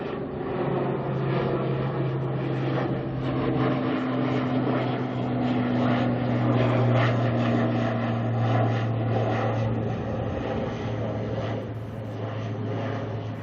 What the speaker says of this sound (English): Quick shot of the ATR heading to Tauranga.